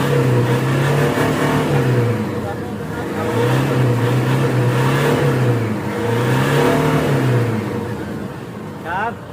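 Toyota Hilux pickup being repaired for a low-power fault, its engine running and revving in repeated rising and falling sweeps, with a person speaking over the engine at times.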